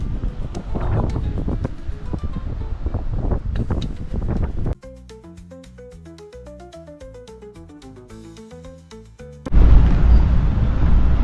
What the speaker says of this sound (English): heavy wind blowing here because of the wind